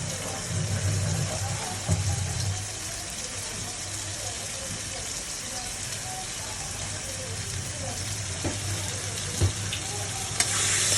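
Spice paste (masala) frying in a pan, a continuous dense sizzle held steady for several seconds with occasional stirring knocks, close-up, a low hum underneath and a speaking voice at times.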